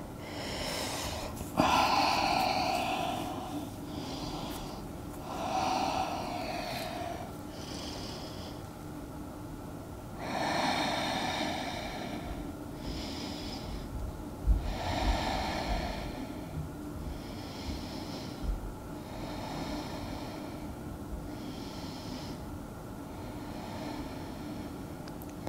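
Deep, slow breathing during a yoga session, a series of long audible inhales and exhales at a steady unhurried pace, close and fairly soft, with no talk.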